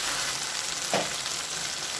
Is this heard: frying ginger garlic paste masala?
yes